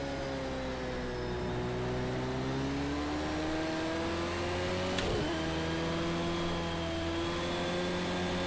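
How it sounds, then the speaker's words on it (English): Race car engine in the Project Cars 2 racing game, a steady loud drone with rising and falling harmonic pitch as it revs, one sharp gear-change blip midway, no talking. "Nice engine sounds as well."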